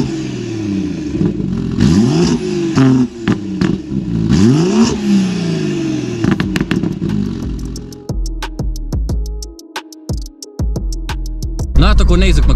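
An xDrive car with a 2JZ engine revs and accelerates hard, engine note rising in repeated sweeps through the gears, close and loud, with someone talking over it.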